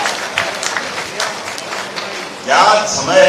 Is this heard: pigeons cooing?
no